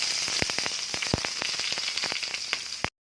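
Ginger sautéing in olive oil in a pan for squid adobo gives a steady, close sizzle with scattered sharp pops and crackles, with no voices over it.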